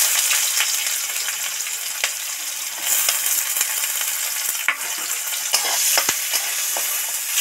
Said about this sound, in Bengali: পেঁয়াজ তেলের মধ্যে দিয়ে দিলাম